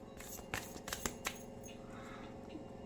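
A tarot card deck being shuffled by hand, a few quick riffling and flicking bursts up close over a steady hum, no talk.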